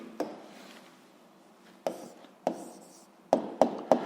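An answer being written down for a grade 7 physics problem: a few sharp, close taps and short scratches, spaced apart at first and then bunched into a quicker run of three at the end, with no voice.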